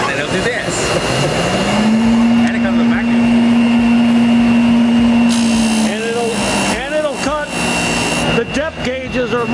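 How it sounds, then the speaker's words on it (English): An automatic saw chain sharpener grinds a chainsaw chain at an equipment expo, its motor winding up into a loud, sustained whine that then fades, with a person talking over the later part. "You put the chain in there and you go, sharpen! And you walk away. And it'll do this."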